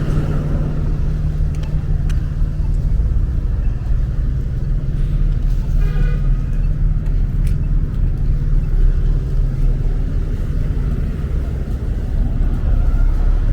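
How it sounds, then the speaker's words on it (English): Steady, loud street traffic along a Brooklyn road near 52nd Street, a continuous rumble of cars and buses passing close by, with no voices standing out. "a lot of traffic"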